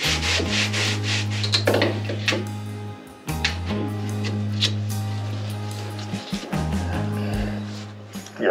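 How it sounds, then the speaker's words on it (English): Hand sanding of a fitted wooden insert on a sailing boat, repeated rasping back-and-forth strokes in close, steady rhythm with a brief pause partway through, no talking. "What it's gonna allow me to do is I can sand this hopefully down a bit more and then get this so it's a little bit closer to that edge."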